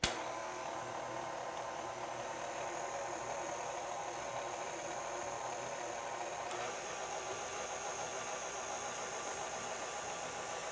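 A stand mixer runs steadily while kneading stollen dough, giving off a faint, even motor hum and whir that holds unchanged throughout with no talking.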